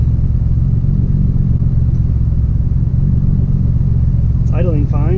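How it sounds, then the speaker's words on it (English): A loud Nissan Skyline R34 GT-R with a 2.8-litre engine idles close by, giving a steady, deep rumble with a brief higher sound near the end. "It's idling fine."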